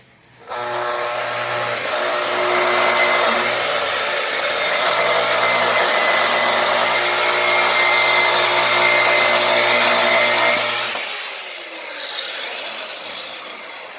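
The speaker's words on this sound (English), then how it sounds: "We'll do the radiuses and router one of those." A router cuts radiuses into wood in a workshop, a loud, steady high-pitched whine that runs for about ten seconds, then winds down with a falling pitch.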